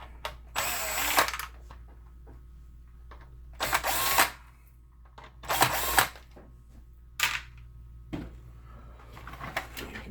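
Screws being backed out of a BenQ HT1075 DLP projector casing with a 5mm nut driver: several separate bursts of whirring and ratcheting with quiet gaps between, close and fairly loud, no talking.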